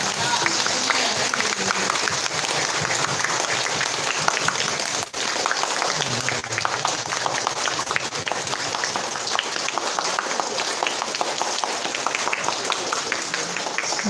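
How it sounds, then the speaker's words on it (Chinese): Audience at a classics-education lecture at a mountain retreat hall applauds warmly after the talk, a dense, sustained burst of clapping with crowd noise and voices mixed in. "我们各位请起我们热烈的掌声"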